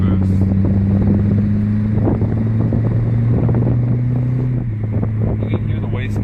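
A turbocharged classic car running on overboost gives a steady, loud engine drone with buffeting wind noise; the engine tone drops slightly near the end, and no separate wastegate sound stands out.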